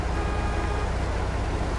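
A go-kart engine in the video game Farming Simulator 22 drones at a steady low pitch with a pulsing rumble, loud and continuous with no talk.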